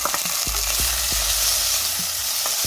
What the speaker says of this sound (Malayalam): അതിലേക്ക് നമുക്ക് അരിഞ്ഞു വെച്ചിരിക്കുന്ന ടൊമാറ്റോയും കൂടെ ഇട്ട് കൊടുക്കാം.